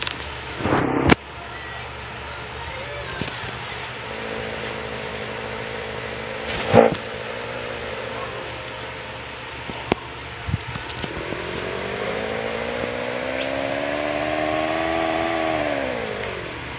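A car engine in the Roblox game Brookhaven hums at mid volume, with a few sharp clicks early on and a rising, revving tone as the car picks up speed toward the end.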